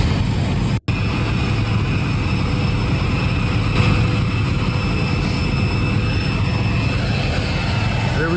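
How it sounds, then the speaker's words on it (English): Air Force One departing from an airport tarmac, heard as a loud, steady jet engine roar with a broad rushing drone filling the whole stretch, briefly cut by one sharp dropout near the start. "Here is the moment that Todd captured on the tarmac, Air Force One and President Trump departing from the aircraft."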